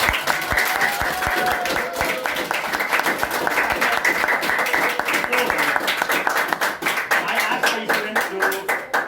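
A school audience claps for class 8 students during a practical science session at Anupam Vidyasadan, scattered but sustained hand clapping with sharp individual claps, fairly close and ongoing throughout.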